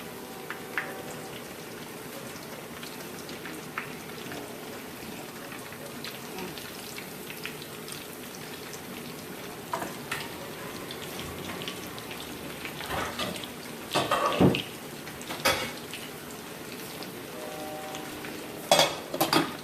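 Salmon croquette patties with a seafood twist fry in a pan with a steady low crackle and sizzle, broken by a few sharp clinks and scrapes of a utensil near the end.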